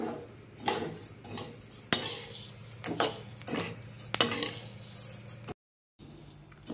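Rice grains roasting in a pan for a GSB-style sweet, with a steady crackle of light clinks and small pops and scraping stirs, fairly close, broken by a brief gap of silence near the end.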